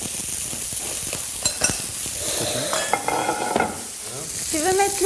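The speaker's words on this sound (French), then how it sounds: "Notre boudin qui rôtit doucement" Skinless boudin roasting gently in a pan in a restaurant kitchen, a continuous bright sizzle and crackle with clinks of utensils and stirring, close and steady from start to finish.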